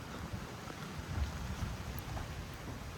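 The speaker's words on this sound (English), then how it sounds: "It's kind of just starting to rain." Rain begins falling during an 11 PM lightning storm in Houston, Texas, a soft, steady patter and hiss over a low, distant rumble, faint throughout with no voices.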